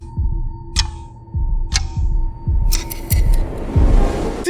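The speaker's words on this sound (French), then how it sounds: "Jusqu'au tic-tac de la montre" Steady clicking ticks of a wristwatch in a Daredevil: Born Again episode, a regular rhythm of sharp transients over low rumble and dramatic score, loud and close.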